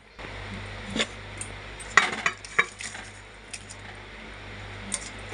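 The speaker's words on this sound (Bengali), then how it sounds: "এখন আমি এর উপরে মাছটা দিয়ে দেব" Rohu fish pieces go into a cooking pot of curry with potatoes and drumsticks, producing a few soft thuds and light metallic clinks, close and fairly quiet.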